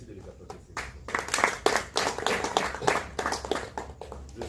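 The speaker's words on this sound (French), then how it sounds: "Merci de les applaudir" Audience applause at a ceremonial gathering, a ragged patter of hand claps that builds after a quiet start and carries on steadily, with voices mixed in.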